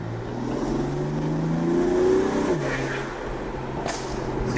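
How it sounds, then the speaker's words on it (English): A BMW F80 M3 with catless downpipes and a single midpipe revs loudly on a downshift, the engine note climbing then dropping with sharp crackles, close and continuous. "you can hear the spool up a lot now. Yep. Ooh. Downshift sounds nuts."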